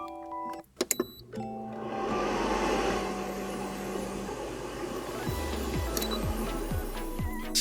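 Futon dryer switched on after repair, with a few sharp button beeps and clicks, then a steady loud fan whir close by that keeps running alone, with faint ticking motor sweeps near the end.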